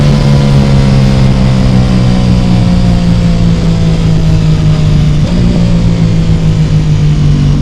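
Ducati Pikes Peak motorcycle at full throttle during a 0-60 mph run, its engine a loud, close, continuous drone with a strong steady tone and wind rush throughout.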